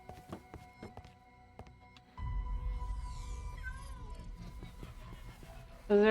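A cat meows in a modded Minecraft game, with soft thuds and taps early on, then a louder low rumble of game ambience joins and a brief voice or game sound at the end.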